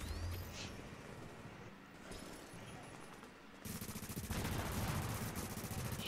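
Gunfire from shotguns and other weapons in The Division video game, a dense, continuous volley of shots that grows louder and heavier toward the end, with a voice faintly mixed in.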